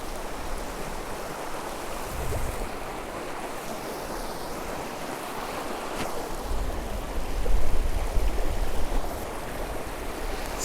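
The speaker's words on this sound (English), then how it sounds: "Crossing this little river." Someone wades across a cold little river with a gravel bottom in New Zealand, with steady rushing and sloshing water close by that swells into heavier splashing partway through, and no talk.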